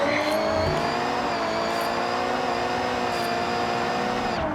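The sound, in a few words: BMW M1 engine and tire squeal drifting, Forza Horizon video game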